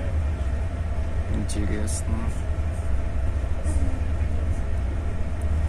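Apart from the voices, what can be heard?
train hauling freight wagons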